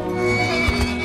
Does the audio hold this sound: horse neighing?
yes